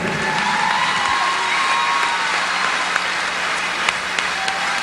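Sustained audience applause for an Armenian singer at a televised music entertainment show, steady dense clapping with some crowd cheering, loud and continuous throughout.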